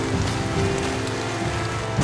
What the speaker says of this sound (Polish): przywitała nas ciepłym, tropikalnym deszczem